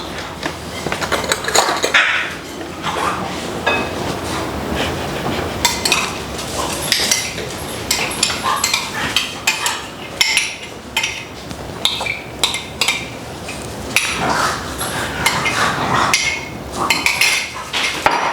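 A spoon or utensil scrapes and knocks yogurt out of a measuring cup, giving repeated close clinks, taps and scraping strokes in an irregular rhythm.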